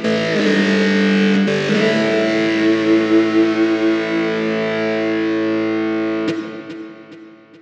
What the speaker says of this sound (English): Using distortion on power chords sounds great because it's grungy.